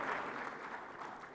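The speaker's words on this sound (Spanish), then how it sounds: "Un aplauso" An audience at a business conference panel gives a steady wash of clapping, moderately distant and unbroken for over a second.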